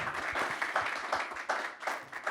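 An audience at a Davos conference session claps in a short burst of applause, individual hand claps audible in an uneven rhythm, fairly quiet and brief.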